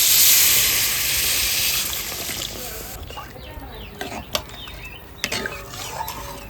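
Water poured into a hot pan of kakrol curry hisses and sizzles loudly at first, then settles into softer bubbling with a few small clicks and clatters nearby.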